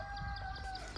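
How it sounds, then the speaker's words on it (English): A neighbor's chickens cluck faintly in the distance on a farm in Isaan, a brief soft bit of fowl chatter over a low, steady background hum. "that's the neighbor's chickens, not our chickens."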